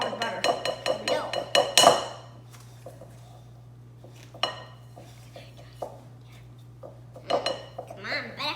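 Butter and sugar are mixed in a bowl with a metal utensil, making a quick run of sharp clinks and scrapes, then slower intermittent knocks over a low hum, with a voice speaking briefly.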